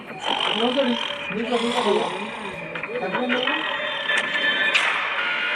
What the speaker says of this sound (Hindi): तुम्हारे खर्राटों ने सोने नहीं दिया।